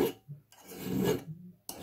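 A bastard file rasps against rotted fiberglass deck coring, two separate close scraping strokes with a short pause between, loud and dry with no talk.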